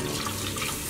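Warm or hot water runs in a steady, close, continuous pour for chicken pot pie broth, with a loud, even rushing splash and no voices.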